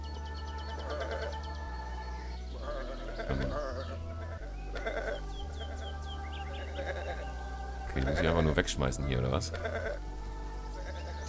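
Sheep bleating in the video game Botanicula, several quavering bleats scattered over steady background music, loudest near the end, with someone talking at times.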